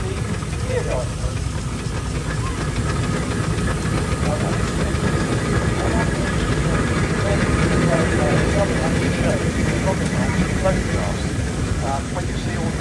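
A Tasker steam tractor, the gear drive version, drives around at a steam rally. It gives a steady, loud mechanical chuffing and hissing rumble that carries all the way through, with voices talking over it.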